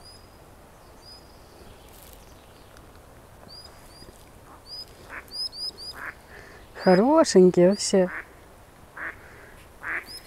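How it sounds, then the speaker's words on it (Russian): Ducks quacking by a clear forest pond, a short burst of several loud nasal quacks in quick succession near the middle, with someone talking softly and small bird chirps around it. "А, и уточки"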